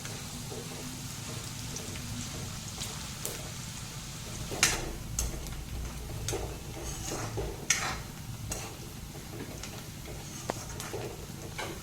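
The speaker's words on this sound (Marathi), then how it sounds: "कांदा छान असा थोडासा लालसर होऊन द्यायचा आहे" Onion fries in a pan until reddish, giving a faint, steady sizzle with scattered sharp pops and clicks from stirring, quiet and close with no talking.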